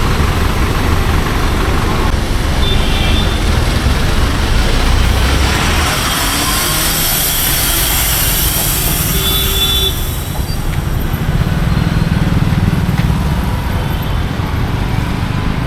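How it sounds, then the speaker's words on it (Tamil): A premium AC sleeper bus pulls away on a Chennai to Trivandrum route, its engine giving a loud, continuous low rumble with mechanical whine and passing traffic noise, no voices. "ஸோ வண்டி கிளம்பிடுச்சுங்க."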